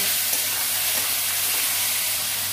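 Ground coriander and cumin sauté in a pan with ginger-garlic paste and turmeric for an egg, potato and ridge gourd curry, giving a close, even frying sizzle that holds steady throughout.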